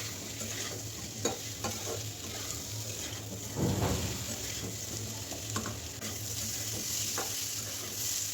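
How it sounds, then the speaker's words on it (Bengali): Boiled, drained elephant foot yam fries and is stirred with spices in a pan, a steady close sizzle broken by scraping stirs, with one louder stir burst in the middle. "ওলগুলো খুব ভালো করে একটু ভেজে নেব যতক্ষণ তলায় লেগে না যায়"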